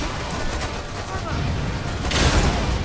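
Gunfire and grenade blasts roar through a four-player co-op battle in the video game Lost Planet 2. Dense, continuous bursts of shots form a steady wall of noise, with a heavier boom near the end and voices mixed in.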